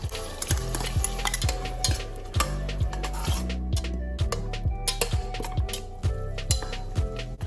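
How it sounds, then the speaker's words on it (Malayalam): Ground tomato paste sizzles in a pan under a steady rhythmic tapping and scraping of a utensil against the pan, with no voices. "ഇതാ നല്ലോണം അരച്ചിട്ട് അതും കൂടെ ചേർത്ത് കൊടുക്കുന്നുണ്ട്."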